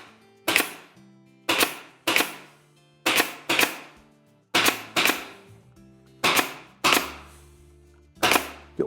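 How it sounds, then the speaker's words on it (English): Staples are driven into a cabinet back with a staple gun, giving about a dozen sharp, loud snapping shots close by. The shots come in irregular pairs and singles, each with a brief decay. "all we're going to do is put a staple on either side of those holes."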